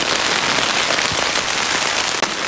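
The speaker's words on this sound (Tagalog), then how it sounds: "Dahil naabutan kami ng ulan dito sa Butag Pier." Rain drums steadily on an improvised tarp tent at a pier, a dense, loud hiss of drops, continuous and close, with a sharp tap near the end.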